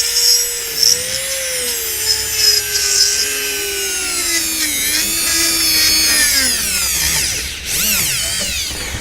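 Dental bur grinding an undercut into an acrylic Hawley retainer, a steady high whine that rises and falls in pitch as the tool works around the edges, loud and close.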